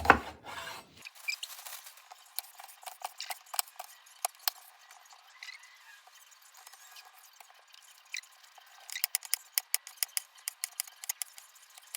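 A knife slices through an orange bell pepper on a cutting board for gumbo, making a scatter of crisp cuts and scrapes, quiet and close, with a denser run of quick chops toward the end.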